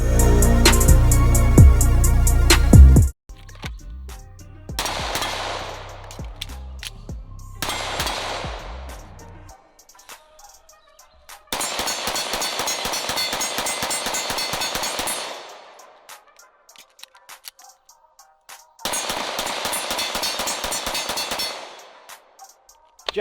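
Guns fired repeatedly at a shooting range, bursts of rapid sharp shots in several separate strings with pauses between them, loud and close.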